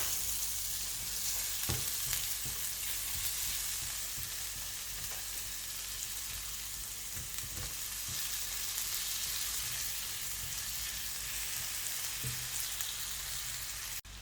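Onion frying in a pan for a creamy peppercorn sauce, a dense, even hiss of sizzling oil running throughout with a few soft spoon scrapes and knocks, close and steady, no voices.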